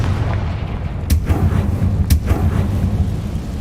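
Two sharp blasts of the Confringo fire spell in Hogwarts Legacy, each a loud burst with a rumbling tail, spaced about a second apart over a low game rumble.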